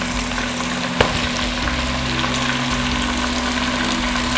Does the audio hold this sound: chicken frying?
yes